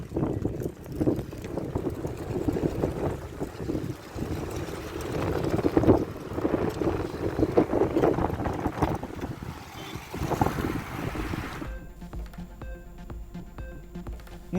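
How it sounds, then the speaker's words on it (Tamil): A whirling gale-force windstorm in Thanjavur roars loudly and close for about twelve seconds, with steady buffeting gusts and no voices, before giving way to a different, more tonal sound. "தஞ்சையில் விண்ணை முட்டும் அளவிற்கு வீசிய சூறைக்காற்று."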